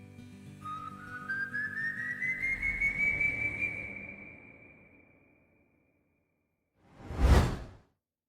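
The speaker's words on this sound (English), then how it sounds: "if you hear his tune, the whistling" El Silbón's eerie whistling tune: a single rising whistle that climbs and holds over a low rumbling bed, fades out, then a sharp loud whoosh bursts near the end after a brief silence.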